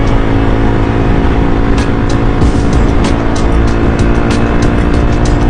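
A 300cc motorcycle rides along interstate I-290 toward downtown Chicago, its engine a steady loud drone under heavy wind rush, with no voices.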